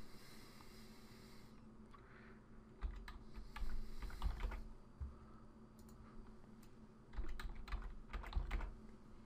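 A password is typed on a computer keyboard in soft, quick bursts of key clicks with brief pauses between them. The typing is quiet and close by.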